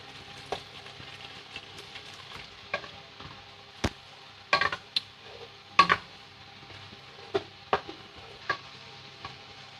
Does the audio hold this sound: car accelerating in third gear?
no